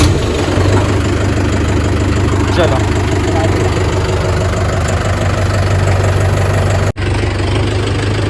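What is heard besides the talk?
Mahindra tractor engine started and idling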